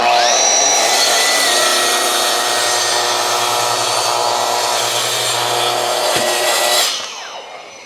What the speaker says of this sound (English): TS60 is the saw for all your needs, from cross-cutting to beveling to ripping.